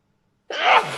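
Close, loud single sneeze from a woman, bursting in abruptly after a quiet pause and fading into a breathy tail.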